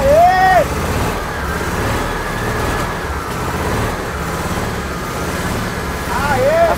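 An engine runs steadily after refuelling and swells into revs near the start and again at the end, with voices talking over it throughout.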